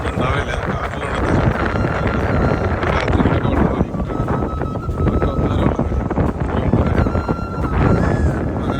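Strong wind buffets the microphone at a Dubai waterfront fishing spot, a loud continuous roar with gusty surges throughout.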